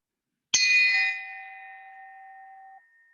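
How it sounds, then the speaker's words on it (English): A single bell is struck once in a quiet room, a bright clear ding that rings on with a long, slowly fading sustained tone for a couple of seconds. "Today, I ring the bell in gratitude for them."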